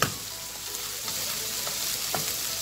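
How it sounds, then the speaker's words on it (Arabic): Something sautés in a pan before chicken liver goes in, making a quiet, even sizzle broken by a few light stirring scrapes nearby. "هشوحها برضو، هشوحها شوية حلوين كده قبل ما احط الكبدة"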